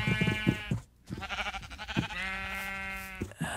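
Sheep in the Minecraft video game bleat repeatedly, several wavering, fairly loud bleats spread across a few seconds, close by, with no one talking over them.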